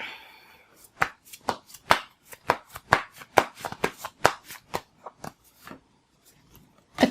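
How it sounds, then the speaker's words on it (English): Tarot cards being shuffled by hand, a quick series of crisp riffling snaps and slaps in uneven bursts, close and distinct, with a quiet pause near the end. "I've been told my card shuffling sounds a little bit naughty."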